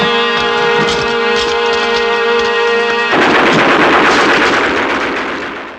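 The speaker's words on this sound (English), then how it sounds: "Inside, it ain't a body, it's a machine gun." Loud, sustained machine gun fire from a Spaghetti Western film: a rapid, continuous burst of shots that shifts to a denser roar midway before trailing off.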